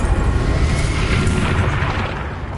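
Bombarda spell blast in Hogwarts Legacy, a heavy, sustained booming explosion rumbling loudly throughout and tapering slightly at the end.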